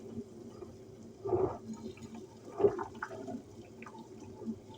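Water from cooked spaghetti drains in two soft splashing pours in a home kitchen, quiet and fairly close, with low background noise and no talk.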